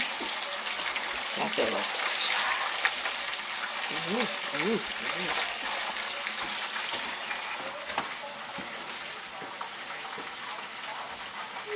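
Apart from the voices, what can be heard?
chicken wings frying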